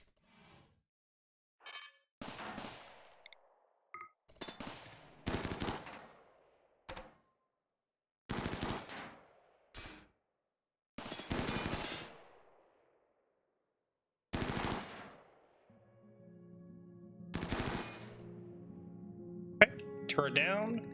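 Bursts of video game gunfire aimed at an enemy turret come in short separate volleys with gaps of quiet between them, and steady electronic tones and clatter build near the end. There is no talk.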